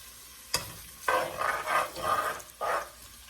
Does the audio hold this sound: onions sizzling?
yes